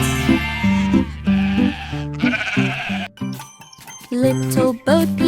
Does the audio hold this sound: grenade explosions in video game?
no